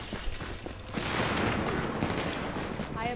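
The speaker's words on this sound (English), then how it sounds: "You totally ran into my grenade." A grenade blast in an online shooter's dark zone, a loud, dense burst of explosive and gunfire-like noise that swells after the first second and rumbles on steadily to the end.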